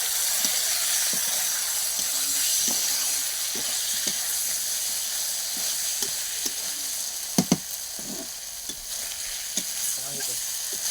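Meat fries in hot oil with meat masala, a steady loud sizzle and hiss broken by regular scraping knocks of a spoon stirring the pan.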